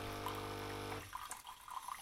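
A Philips Senseo coffee machine runs water through during decalcifying, a steady rushing flow that cuts off after about a second, leaving faint trickling and small drips.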